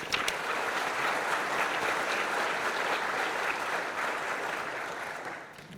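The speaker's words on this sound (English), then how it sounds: "Let's give them a round of applause." An audience at a school district retirement celebration gives sponsors a steady round of applause, a dense, moderately distant clapping that holds evenly and then tapers off in the final second.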